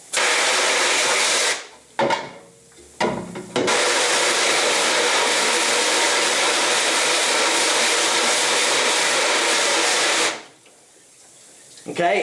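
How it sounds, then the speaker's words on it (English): Water spray rinses both sides of a screen printing stencil screen to wash out emulsion, a steady loud hiss broken by brief pauses near the start, then running continuously until it stops near the end. "I flip it around and I rinse both sides and I'm wetting both sides"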